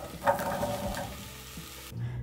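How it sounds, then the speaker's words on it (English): Butternut squash cubes drop into a cooking pot for soup, setting off a brief clatter and a steady, close sizzle of frying that carries on alone, with no talk. "I'm going to add in my butternut"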